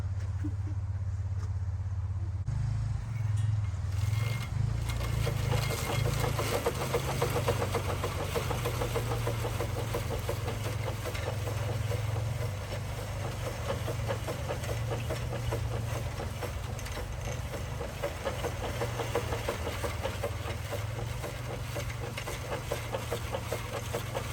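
Well rig winch engine spooling cable, a steady loud mechanical drone with low rumbling throughout and no talk.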